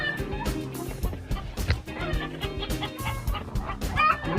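Several chickens squawk and cluck agitatedly in a snowy outdoor setting, a dense, overlapping burst of close, loud calls that continues throughout the short stretch, with no talking.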